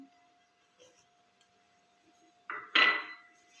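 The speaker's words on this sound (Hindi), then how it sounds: "इसको अच्छी तरीके से मिक्स करेंगे।" A metal spoon scrapes and clinks in a pan while burfi ingredients with powdered sugar are mixed, a short rough scraping burst after near silence with a faint steady hum.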